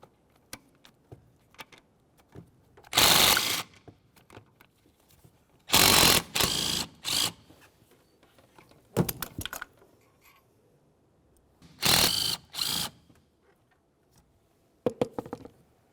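A ratchet removes 13mm exhaust manifold mounting bolts on a 2005-2010 Chevrolet Cobalt, with several bursts of rapid close clicking separated by short quiet gaps and light tool knocks.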